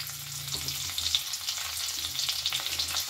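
Slit green chillies hiss in hot oil seasoned with a pinch of asafoetida, a soft continuous sizzle with light crackling heard up close.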